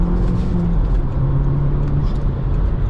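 An Audi S3 8P quattro accelerating hard, a loud, steady engine drone with road noise from inside the car, no voices heard.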